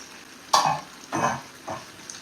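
Fish frying in a local non-stick pot, with three separate bursts of loud sizzle and stirring or turning, each swelling and fading, close by and without speech.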